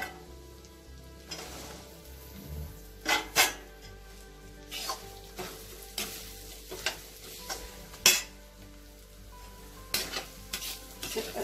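Garlic and chilli pickle sizzles softly in a pan while a spoon stirs it, with repeated sharp scraping clacks every second or so.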